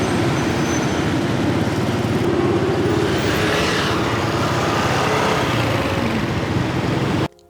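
Continuous rumble of a motorbike moving through busy Hanoi city traffic, engine and road noise steady throughout, ending abruptly.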